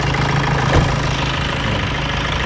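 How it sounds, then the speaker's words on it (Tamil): A 2012 Hyundai i20 diesel car idling after starting, a loud steady low engine drone with a slight knock close by, no voices. "வண்டி ஸ்டார்ட் பண்ணு இந்த வண்டி பாருங்கள்"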